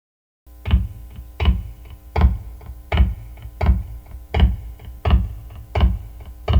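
An SBX4 stomp box placed ahead of a guitar pedal chain thumps out a steady rhythm of deep, even beats, about one every half second, each trailing a short echo over a constant low hum.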